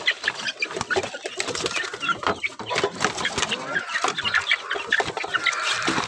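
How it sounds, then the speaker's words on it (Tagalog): A flock of mixed-breed chickens with young chicks clucks and peeps continuously nearby, a dense busy chatter of overlapping calls. "Mga sisiyo ko."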